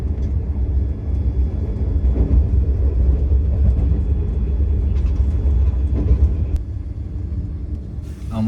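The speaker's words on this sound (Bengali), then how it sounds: "আমাদের ট্রেন এখন আলুবাড়ি জাংশন ঢুকে গেছে।" A Vande Bharat sleeper train pulls into Aluabari Road junction, giving a steady, loud low rumble heard from on board, with a few faint clanks near the end.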